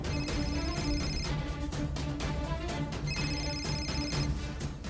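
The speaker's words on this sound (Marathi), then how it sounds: "मॉम, दादाचा फोन." A phone ringtone plays its melodic pattern twice in a row, steady and moderately quiet, with no talking.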